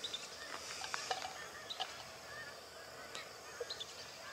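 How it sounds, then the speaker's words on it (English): Faint, distant whistling duck calls, a few thin whistles and honks over a steady outdoor background hiss in Australia. "I believe that's a whistling duck."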